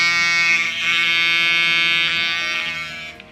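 A bedwetting moisture-sensor alarm gives a steady, loud electronic buzzing tone that holds for about three seconds before fading out.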